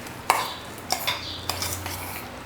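A spoon stirs half a teaspoon of salt into a spiced toast masala mixture in a bowl, with several distinct metallic clinks and scrapes spaced out over a couple of seconds, close and fairly quiet.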